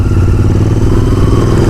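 A Royal Enfield Interceptor 650 parallel-twin engine pulls in second gear, a loud, close, steady throbbing drone with a fine crackling texture and no voices.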